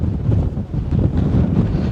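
Strong wind on a small mountain near Las Vegas buffets the microphone in a steady, loud, low roar with gusty surges, no voices over it.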